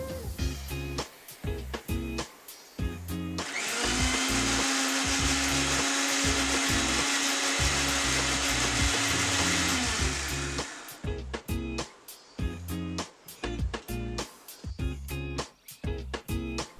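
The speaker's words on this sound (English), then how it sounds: "now you can add more oil and blend it" A blender whirs steadily through a garlic shawarma sauce as oil is added to emulsify it, a loud continuous motor drone lasting about seven seconds between bursts of clattering kitchen handling noise.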